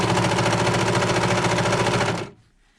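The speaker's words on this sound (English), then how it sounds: "This sewing machine" A sewing machine stitching a surgeon's hat, a loud close rapid mechanical whirr running steadily before stopping abruptly near the end.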